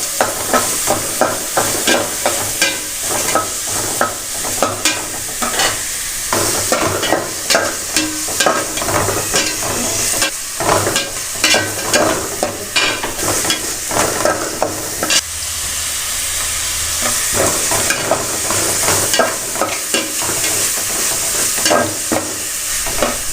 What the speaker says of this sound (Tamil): இப்போ நம்ம வந்து வெங்காயம் சேர்த்துக்கிறோம். அதை நல்லா பொன்னிறமாக வறுத்துக்கிறோம்.